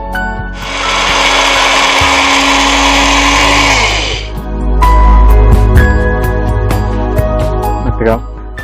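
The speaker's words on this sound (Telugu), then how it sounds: "ఇప్పుడు వీటన్నిటిని కలిపి మనం మిక్సీలో పొడి చేసుకుందాం" A mixer grinder whirs loudly for about four seconds while grinding roasted spices to a coarse powder, then stops, followed by clattering and knocking sounds, with a little talking afterward.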